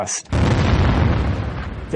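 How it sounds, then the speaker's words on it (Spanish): A deep, roaring blast fills the clip, a kimberlite pipe eruption bursting through the crust, sustained and loud with heavy low rumble after a brief sharp onset. "provocando una explosión que se ve desde kilómetros de distancia y que se parece a una explosión nuclear"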